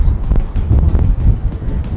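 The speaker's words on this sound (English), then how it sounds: "it's still windy" Strong wind gusts outdoors buffet the microphone with a low, rumbling, fluctuating roar that fills the whole short stretch.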